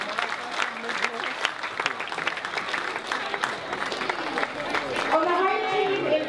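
An audience claps for little Ivana, a 2.5-year-old girl, at a sports event; steady applause with crowd chatter runs throughout and swells slightly near the end.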